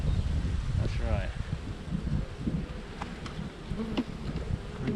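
Bees buzzing around an open beehive during a beekeeping inspection, a steady close drone with occasional individual bees passing near, under a person's speech and light outdoor rustling.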